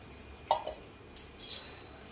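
A single clink of a metal tava griddle being set down on a stove, followed by a couple of faint scraping and tapping sounds in a quiet room.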